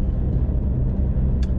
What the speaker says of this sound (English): You can hear my exhaust, it's super drony